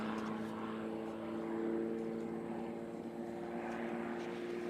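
A propeller aerobatic airplane drones steadily in the distance during a competition hammerhead figure, a faint, even engine hum with a slight swell and dip in the middle.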